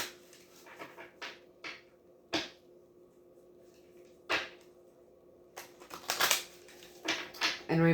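Tarot cards are shuffled by hand in a quiet room, a few soft riffling flicks and sharp snaps spaced out, then a quicker cluster of shuffles near the end, close and clear.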